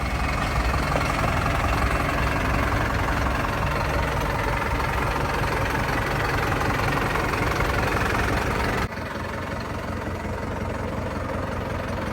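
A 5911 tractor engine idles close by with a steady, throbbing low rumble and faint knocking, dropping slightly in level near the end.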